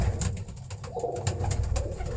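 Pigeon coos near and fairly steady over a short stretch, part of a pet flock bred from an old bloodline, with low rumbling calls and faint background noise, no talk.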